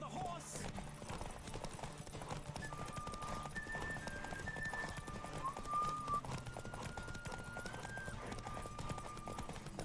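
Horse hooves clip-clopping in The Witcher 3: Wild Hunt as a gray horse is ridden, a steady faint rhythm under game music and a player talking over it.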